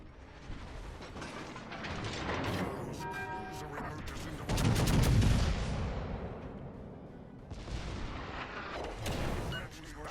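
Heavy naval gunfire from warships in World of Warships Legends: booming cannon shots and rumbling blasts that overlap with mechanical clatter, peaking in a loud, dense burst midway, with no voices.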